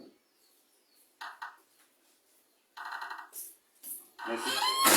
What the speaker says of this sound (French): Venez prendre ce téléphone qui me dérange là.